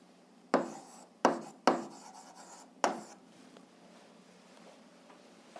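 Chalk or marker strokes on a classroom board while working an algebra problem: four sharp tapping, scraping strokes at uneven intervals, close and fairly loud, followed by faint rubbing.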